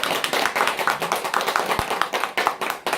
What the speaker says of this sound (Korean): 박수 좀 주세요.